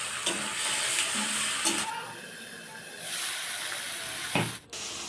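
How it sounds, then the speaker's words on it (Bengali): Chopped onion and tomato sizzle and hiss softly in a hot pan, a faint steady fry with a few brief clatters of stirring, no talking. "পেঁয়াজটা একটু ভাজা ভাজা হয়ে গেলে আমি টমেটোও দিয়ে দিলাম"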